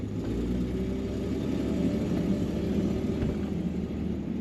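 Inside a 1959 Dodge Coronet four-door sedan with an automatic transmission, the engine drones steadily under a low road rumble while cruising, close and continuous, with no talking.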